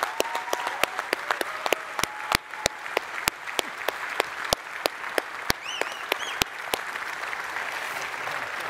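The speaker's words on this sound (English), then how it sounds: "give them a round of applause" A crowd at the Unite Austin 2017 keynote applauds steadily, with sharp, distinct claps standing out over a dense wash of clapping for the whole stretch.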